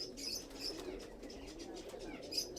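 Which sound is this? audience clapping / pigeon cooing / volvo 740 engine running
pigeon cooing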